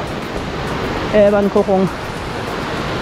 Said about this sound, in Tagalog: Rito matatanaw natin yung tayog ng waterfalls.